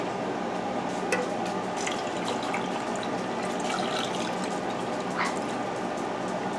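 Cooled sugar brine is poured into a jar of eggs, making a steady, continuous liquid pouring and splashing sound, fairly close and alone, with no talking.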